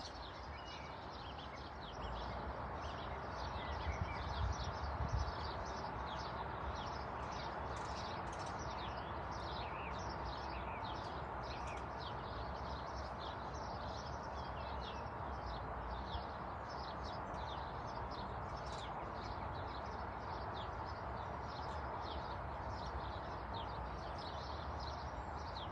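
Birds sing faintly in the background, a soft scatter of repeated chirps and tweets over a quiet, steady ambience that lasts the whole stretch.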